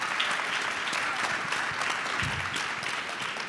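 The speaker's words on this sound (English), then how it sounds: "So give yourselves a round of applause right now." An audience at a wealth and power conference applauds steadily, a dense, even wash of clapping that holds at constant strength throughout with no voices on top.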